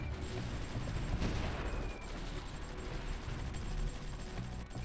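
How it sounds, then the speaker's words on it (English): Artillery fire in the Supreme Ruler 2020 strategy game, heard as a faint, continuous rumbling barrage of distant booms and crackling gunfire. "There's their artillery in the area."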